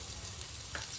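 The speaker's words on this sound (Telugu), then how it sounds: "ఇప్పుడు మసాలా వేసుకుందాం" Masala goes into prawns frying with cashews, producing a steady, soft sizzle with light stirring scrapes throughout, faint and close.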